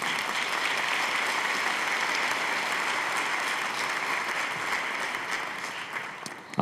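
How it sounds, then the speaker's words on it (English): Steady audience applause fills a school spring band concert hall at St. Clair Middle School, a dense even roar of many hands clapping for several seconds before thinning at the end. "We can applaud after each one of these."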